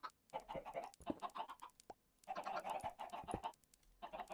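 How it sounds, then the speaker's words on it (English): Minecraft chickens clucking inside a redstone chicken cooker farm in a vanilla survival game, a busy cluster of overlapping clucks in short bursts with brief pauses between, fairly close and moderately loud, no talking. "This right here is basically Suzuma's chicken cooker."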